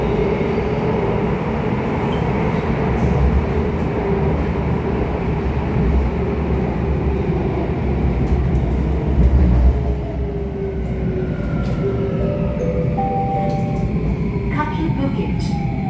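A Bombardier MOVIA C951 metro train runs on Singapore's Downtown Line, its interior filled with a steady rumble and hum. Rising motor whines appear near the end as the train changes speed.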